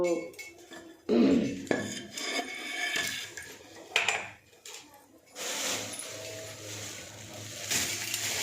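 Bitter gourd being cut and cleaned with a knife in a home kitchen, with irregular clinks of metal utensils and dishes, scraping and knocking close by, then a rushing wash in the last few seconds.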